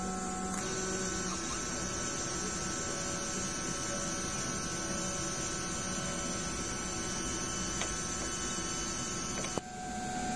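Steady mechanical whirring and humming from an A3 DTF printer cycling through its head cleaning routine, with a sharp click near the end.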